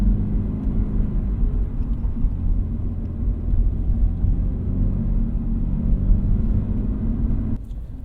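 A Z06 sports car engine rumbles steadily as it drives in, a loud, deep low drone holding for about eight seconds before easing slightly near the end, with no talking.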